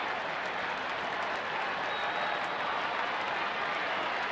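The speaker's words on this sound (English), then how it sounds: "And the crowd starting a rhythmic clap for Martin Perez, trying to help him get out" A large baseball crowd at a Rangers home game claps and cheers for the pitcher late in the season, a dense, steady wash of applause filling the stadium without a break.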